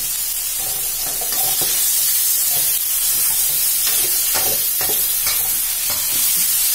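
Fish balls stir-fried dry in a hot pan with seasoning sauces and kaffir lime leaves: a loud, continuous sizzle with repeated spatula scrapes and pushes, close up, no voices.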